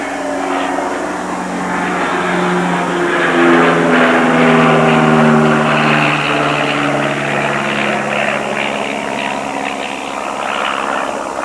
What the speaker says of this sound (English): Here comes our other flyover.